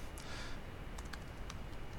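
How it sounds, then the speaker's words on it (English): Typing on a computer keyboard, with quick irregular key clicks close by under a steady low room hum. "I'm just typing right now."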